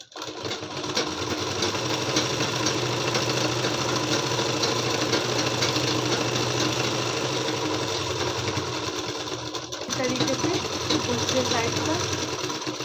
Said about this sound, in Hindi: हमने सिलाई चला दिया, फिर घुमाते हुए दूसरा वाला चलाएंगे।